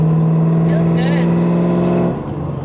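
A 5th-generation Chevrolet Camaro SS with a new Exedy Stage 2 clutch pulls through its gears, a loud, steady engine drone dominating throughout before easing off near the end.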